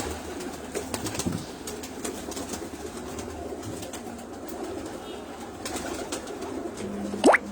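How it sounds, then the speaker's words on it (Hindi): Pigeons in a cage coo softly in a low, steady murmur, with a few wing flutters and small knocks, and one brief louder call rising near the end. "ये इस कबूतर को आप देखें, अब ये चलते फिरते और भी हसीन और भी खूबसूरत लग रहे हैं।"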